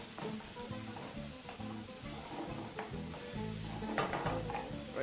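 Bacon sizzles steadily in a hot pan while being stirred, scraping and clinking against the pan over a continuous crackling hiss, with music playing underneath.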